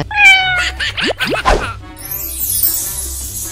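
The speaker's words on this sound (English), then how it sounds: "Cat." A cartoon cat meows a few times up close in a children's animal video, clear and bright over light background music and effects.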